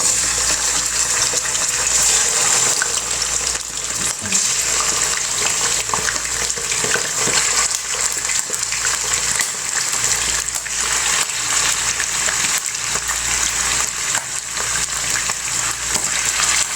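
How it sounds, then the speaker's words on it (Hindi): Chicken fries in hot oil in a karahi, a loud steady sizzle and crackle that continues unbroken throughout with occasional stirring noises. "मैं कढ़ाई में ऑयल डाल चुकी और ऑयल तकरीबन गर्म हो चुका। अब हम इसमें चिकन डाल देंगे।"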